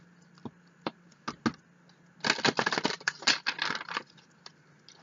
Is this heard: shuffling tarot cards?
yes